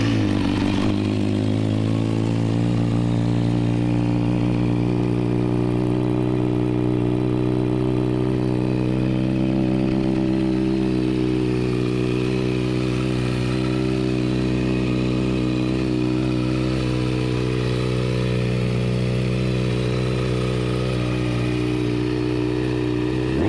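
A 2011 Kawasaki Ninja ZX-6R fitted with an Akrapovic exhaust and a servo eliminator idles steadily and loudly at close range, a deep, throaty hum holding for over twenty seconds.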